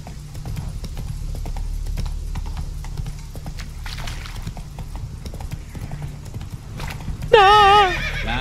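A horse in Witcher 3: Wild Hunt clip-clops steadily at a walking pace, ending with a loud, wavering whinny near the end.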